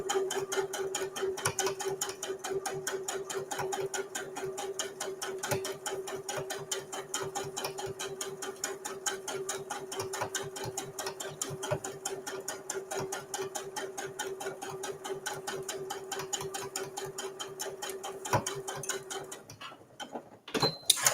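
Sewing machine top stitching about 1/8 inch from a folded fabric edge on a visor tissue holder, a close, steady rapid ticking run lasting nearly the whole stretch before stopping near the end.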